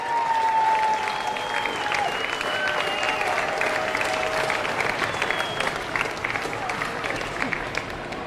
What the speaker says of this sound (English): Round of applause for Andy, Ethan and Charlie.